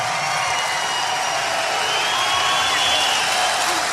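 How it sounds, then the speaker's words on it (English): A huge political rally crowd in Bangor, Maine applauds and cheers for the police, a dense, continuous wash of clapping and crowd roar at an even, loud level throughout. "we should give a special round of applause to our police"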